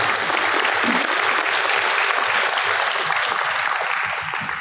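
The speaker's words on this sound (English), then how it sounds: "Give these students a round of applause." At a high school awards day, an audience gives standing students a round of applause, dense loud clapping from a large crowd that holds steady and begins to ease at the end.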